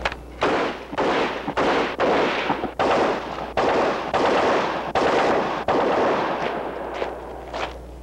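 A Heckler & Koch weapon fires after a sand reliability test in a 1970s live-fire demonstration, a series of about a dozen loud, sharp bursts in irregular rhythm with short gaps between them.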